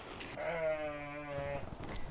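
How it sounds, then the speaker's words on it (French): A sheep on a farm lets out one long wavering bleat, fairly close and clear, with faint outdoor rustle around it and no speech. "ce sont les moutons qui viennent tout de suite nous voir ou voir les gens qui se promènent"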